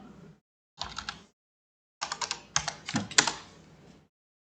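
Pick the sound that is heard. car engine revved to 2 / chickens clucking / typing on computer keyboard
typing on computer keyboard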